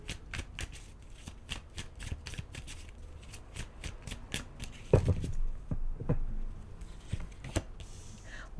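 Tarot cards shuffled by hand, a rapid run of crisp riffling flicks for several seconds, then slower shuffles, taps and handling sounds, close and fairly loud with no talking.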